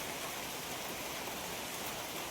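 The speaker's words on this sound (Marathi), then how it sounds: "पाऊस आला आहे" A sudden heavy downpour during a village puja gives a steady, even hiss of rain, faint and unbroken throughout, with no voices.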